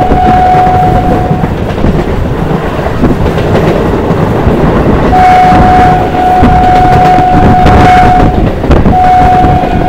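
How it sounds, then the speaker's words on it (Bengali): Local train pulling into Satberia Halt, a single-platform rural station after Bangaon, with loud continuous rumbling of wheels and carriage noise and a steady high whistle-like tone recurring, close and constant throughout. "ফাইনালি বনগাঁর পরের স্টেশন সাতবেরিয়া হল্ট ঢুকলো আমাদের ট্রেনটা।"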